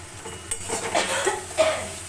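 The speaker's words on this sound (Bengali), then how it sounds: "কন্টিনিউয়াস নেড়ে যেতে হবে" Mashed flat bean paste is stirred as it fries in a wok, with scraping and clinking of a spatula against the metal over a low background hiss, a few distinct scrapes in quick succession.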